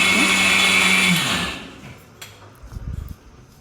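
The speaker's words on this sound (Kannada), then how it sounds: "ಇದನ್ನು ಮಿಕ್ಸಿ ಮಾಡ್ಕೋಬೇಕು" A mixer grinder whirs loudly at high speed grinding spices for chutney powder, then winds down and stops, followed by a few faint knocks and rattles.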